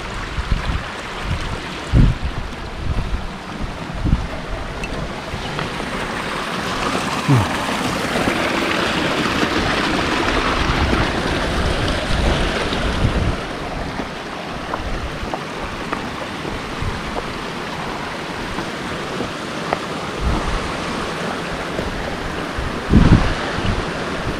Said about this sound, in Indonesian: Dan ini yang ketiga kalinya kita melewati sungai.